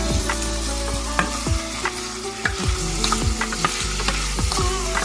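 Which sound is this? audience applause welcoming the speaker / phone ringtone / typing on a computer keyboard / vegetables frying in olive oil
vegetables frying in olive oil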